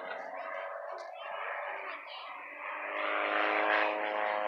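An airplane flies overhead at the 2021 Oregon International Air Show in McMinnville, a steady droning engine roar that swells louder toward the end, with faint voices in the background.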